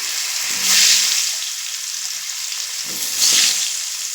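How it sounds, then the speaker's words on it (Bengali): Sliced potatoes fry in hot oil with turmeric and salt, a soft continuous sizzle that swells in two louder bursts, likely as the pan is stirred or tossed. "যে আলু আমি কেটে রেখেছি আলুগুলো ভেজে নেব"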